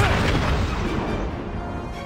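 A detonation of explosive gel in Batman: Arkham City, a loud booming burst up front that rolls into a dense, rumbling decay for about two seconds.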